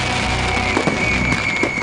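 Consumer fireworks go off in a dense, continuous crackle with scattered sharper pops over a steady hiss, loud and close throughout, with no voices.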